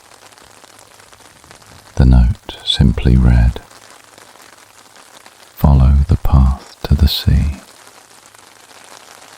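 Gentle rain patters steadily on surfaces along the Italian coast, a soft continuous hiss under two spans of a calm narrating voice.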